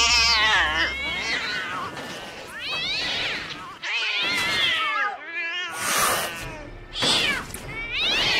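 Several cats meow and yowl loudly up close, overlapping wavering cries that repeat throughout with little pause.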